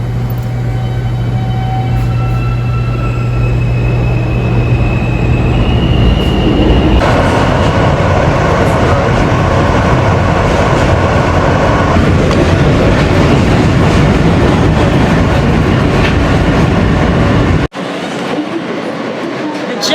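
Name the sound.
elevated subway train riding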